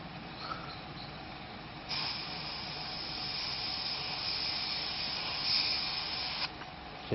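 A paint spray gun hisses steadily as SMS paint is sprayed, a continuous broadband jet lasting several seconds with quieter airflow before and after.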